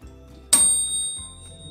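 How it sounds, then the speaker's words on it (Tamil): A grill oven's timer finishing after half an hour of cooking chicken, giving a single sharp electronic beep that rings on as a fading tone over a low steady hum. "இப்போ நமக்கு டைமர் நின்று பீப் சவுண்ட் வந்துருச்சு."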